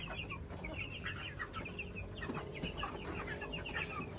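Four-week-old chickens on a farm in Jamaica cluck continuously in overlapping, busy chatter from a flock, close and steady throughout with no talking.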